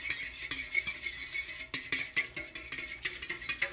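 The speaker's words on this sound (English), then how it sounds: "Continue to mix, making sure all the powder is dissolved." Cherry Jell-O powder being mixed in a bowl: a rapid irregular clinking and scraping of a utensil against the container, close by, with brief pauses.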